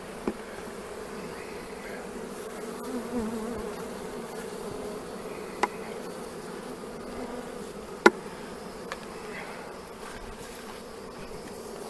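Honeybees buzz steadily and agitatedly as they are brushed off a Langstroth hive frame, a continuous close drone with a few sharp clicks from handling and no talk.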